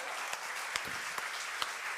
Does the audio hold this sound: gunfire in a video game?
no